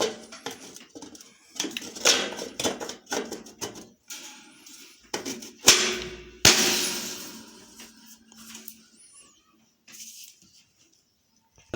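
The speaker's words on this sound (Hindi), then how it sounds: "इसका जो ये कवर है इसको बंद कर लेते हैं" A plastic cover is snapped shut on a pedestal fan under home repair, producing a string of close, sharp plastic clacks and knocks with one louder clatter midway before it falls quiet.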